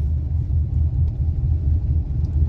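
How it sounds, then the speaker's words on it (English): Steady low road rumble from inside a moving car, constant and close throughout with no voices. "I'm driving right now"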